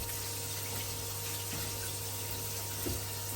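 A shower pump runs with water flowing in a house, giving a steady, low-level hiss and hum with a faint knock near the end.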